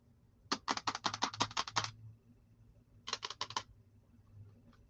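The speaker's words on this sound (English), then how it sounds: "it's just a small, lightweight keyboard" Rapid keystrokes on a small, lightweight, inexpensive wireless keyboard, a quick run of clicky taps, a pause, then a shorter burst, close and fairly quiet with no talking.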